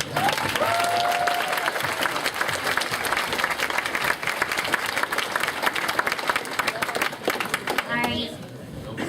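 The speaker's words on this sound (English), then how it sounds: "Everybody, a round of applause for Miss Prudence." An audience at a VA panel for Miss Prudence at Canterlot Gardens gives sustained applause, dense clapping throughout with voices and cheers mixed in.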